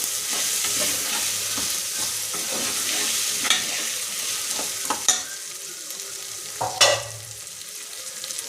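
Washed green peas being stirred in a hot pan for matar pulao, with a steady sizzle throughout and a few sharp scrapes and clinks of the spoon against the pan.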